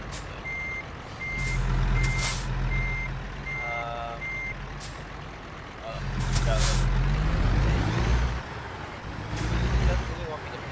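A truck reverses in American Truck Simulator. Steady, evenly spaced warning beeps sound over a deep diesel rumble, with bursts of air-brake hiss and someone talking in between.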